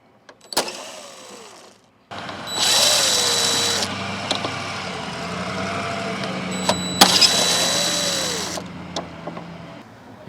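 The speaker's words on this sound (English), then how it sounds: "We can see that there are 2 Phillips head screws holding on each of these cover plates, and we can remove those screws." Phillips head screws being backed out of the license plate light cover plates on a 2008 Hyundai Elantra 2.0L: a steady mechanical whir runs for several seconds, with sharp clicks at the start and midway and no talking.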